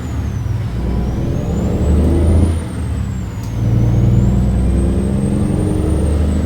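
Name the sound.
truck passing in American Truck Simulator video game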